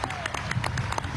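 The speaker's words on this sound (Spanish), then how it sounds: "un gran aplauso, camaradas" A crowd at an outdoor inauguration of a desalination plant on Nueva Esparta breaks into brief applause, with dense clapping and crowd noise, a faint voice in the background.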